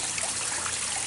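Two small garden waterfalls at the end of a little stone-lined river flowing into a pond, giving a steady, close trickling and splashing rush with no voices.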